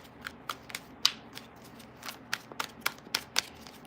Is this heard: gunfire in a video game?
no